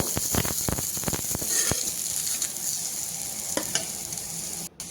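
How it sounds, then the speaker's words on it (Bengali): Eggplant pieces fry in mustard oil in a kadai with a steady crackling sizzle, broken by sharp scraping clicks as a spatula stirs and turns them, close and loud. "আমি শুধু বেগুনগুলো আগে ভেজে নিচ্ছি।"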